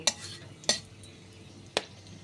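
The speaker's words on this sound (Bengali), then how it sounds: "তাতে আমি গরম মশলা ফোড়ন দিচ্ছি, 3টে ছোটো এলাচ, 1 টুকরো দালচিনি আর 2টো লবঙ্গ।" Whole spices, cardamom, a piece of cinnamon and cloves, go into hot white oil for a mixed vegetable curry. A faint sizzle sits under three sharp clinks or scrapes of a utensil against the pan.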